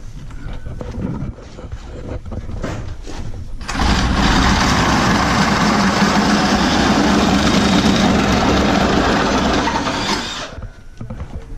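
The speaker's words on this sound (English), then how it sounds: "I'm gonna drill straight down here so that with a bigger hole" A Milwaukee SuperHawg heavy-duty drill whirs loudly and steadily for several seconds boring a large hole down through wood, after some quieter shuffling, then winds down.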